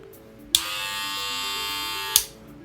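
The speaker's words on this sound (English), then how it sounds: "I don't have a blade on there, obviously, so it sounds a little bit louder than it's supposed to." A hair clipper fitted with a Tomb45 battery runs without its blade, switching on with a click into a steady, loud, high buzzing whine for about a second and a half before clicking off.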